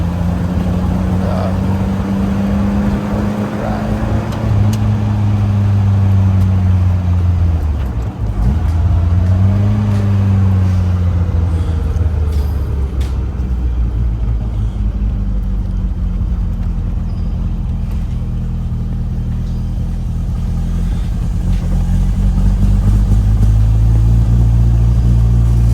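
A 1976 Triumph Spitfire 1500 accelerates through the gears, its engine note rising in pitch, dropping at each shift and climbing again, loud and close from inside the car, with road rumble underneath.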